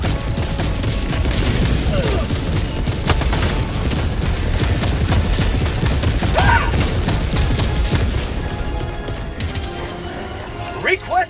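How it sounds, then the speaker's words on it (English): Orbital barrage explosions in the video game Helldivers 2: a continuous rolling fusillade of booms and gunfire, dense and loud throughout, with voices mixed under the battle. "Orbital barrage incoming."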